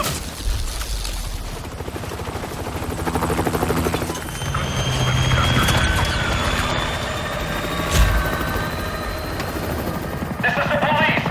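A video game helicopter drones steadily with a low rotor rumble, joined by bursts of gunfire and sharp impacts, loud and busy throughout.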